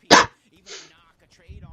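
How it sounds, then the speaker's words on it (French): A dog gives one sharp bark followed by a softer, shorter bark, both near and loud with quiet gaps between, and speech fades in at the end. "C'est un chien."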